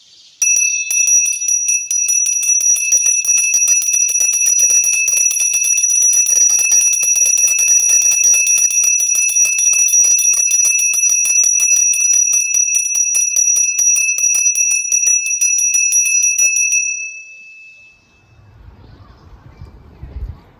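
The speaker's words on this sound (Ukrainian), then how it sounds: "Сьогодні дзвоник сумно провіщає, що вас розлука школою чекає." An electric school bell rings loudly and continuously for about seventeen seconds at a last-bell graduation ceremony, a harsh metallic clatter, then cuts off leaving faint background murmur.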